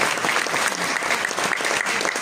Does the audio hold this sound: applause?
yes